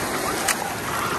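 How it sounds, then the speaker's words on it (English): Small surf waves wash and splash around a toy LEGO Titanic at Waikiki Beach, Hawaii, a steady broadband rush of water with one brief brighter splash midway. "I have some good waves here."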